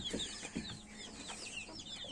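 Chickens and roosters clucking in a farmyard flock, several overlapping calls in quick repeated bursts at moderate distance, with no voices present.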